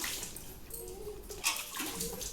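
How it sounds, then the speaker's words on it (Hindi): Water splashing and running as a cow's udder is washed by hand before milking, a steady close wet rush with brief sloshes, no talk. "इसको दीदी पानी से धोने के बाद दूध निकाल रही है।"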